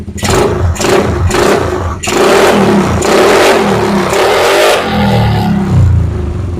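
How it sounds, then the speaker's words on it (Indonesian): An automatic motor scooter's small engine, which has lost compression, is revved hard several times in short bursts with brief drops between, loud and close, then settles into a rough idle. "Nah kita coba geber dikit"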